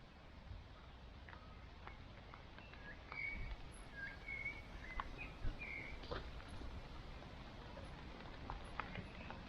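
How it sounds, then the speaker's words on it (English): Faint birds chirp and whistle intermittently over a soft, steady patter of rain dripping on leaves in Colwick Country Park, Nottinghamshire, with no voices present. "Just the sound of the birds and the rain on the leaves."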